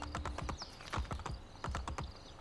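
Rapid rhythmic hoofbeats of a galloping horse in the video game Assassin's Creed Brotherhood, crisp and close, repeating in quick clusters throughout.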